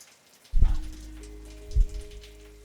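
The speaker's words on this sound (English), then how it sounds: "Let the rain fall down." Rain falls in the Satisfactory video game as a soft, steady patter, broken by two louder thumps and a few faint lingering tones.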